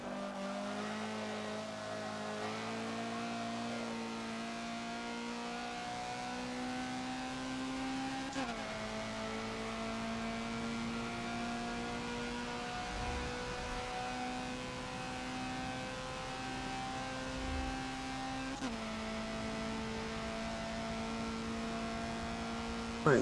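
A Honda CRX engine in Forza on the Mugello club track, droning steadily at high revs and climbing in pitch through the gears, with two clear drops at the shifts and no talk.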